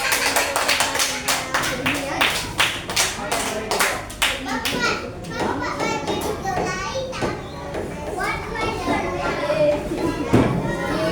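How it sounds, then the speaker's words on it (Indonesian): A classroom of children claps for group 3, a run of sharp rhythmic claps that loosens into scattered clapping, with children's voices and chatter mixed in. "Kasih tepuk tangan buat kelompok 3."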